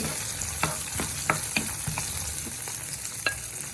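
Onions fry in oil with a constant bright sizzle, while a utensil scrapes and taps the pan in a loose rhythm of roughly a stroke every half second.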